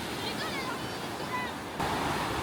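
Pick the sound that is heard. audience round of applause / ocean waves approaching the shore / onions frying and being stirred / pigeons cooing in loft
ocean waves approaching the shore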